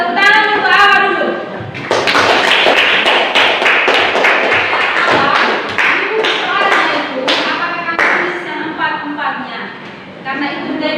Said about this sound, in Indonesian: tepuk tangan untuk awak dulu.